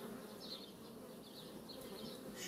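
Honey bees buzz steadily inside an urban beehive after a queen cage is placed among them, a continuous close hum with no talking.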